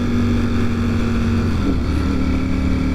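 A motorcycle accelerates out of a very sharp turn, a loud, close engine drone with a low rumble and wind noise, rising slightly in pitch over a few seconds.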